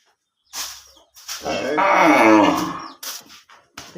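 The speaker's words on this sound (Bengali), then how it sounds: "আমার গরু একটা হিটে আসছে" A thin, bony cow in heat lets out one long, loud mooing call that swells and fades over about a second, preceded and followed by shorter nearby sounds.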